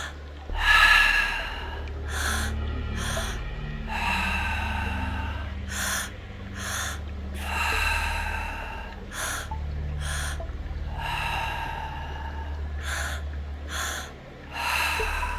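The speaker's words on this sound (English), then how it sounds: "We'll do 10 more rounds of breath together" Deep meditation breathing during a seated-on-ground practice: about ten forceful, rhythmic breaths, each a clear rushing burst, close and fairly loud over a steady low background hum.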